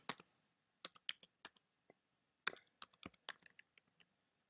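Typing on a computer keyboard while signing in to a Google account, heard as bursts of crisp, close key clicks in two short runs with a brief pause between, no talking.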